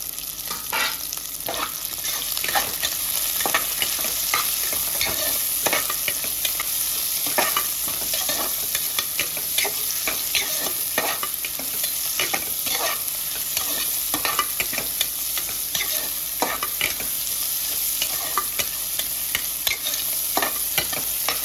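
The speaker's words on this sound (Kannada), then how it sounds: "ಆಮೇಲೆ ನಾನು ಇದಕ್ಕೆ 2 ಮೀಡಿಯಮ್ ಸೈಜ್ ಕಟ್ ಮಾಡಿರೋ, ಸಣ್ಣದಾಗಿ ಕಟ್ ಮಾಡಿರೋಂಥ ಈರುಳ್ಳಿ ಹಾಕ್ತೀನಿ" Chopped onions frying in a pan, a steady close sizzle broken by frequent scraping and stirring strokes throughout, with no talking.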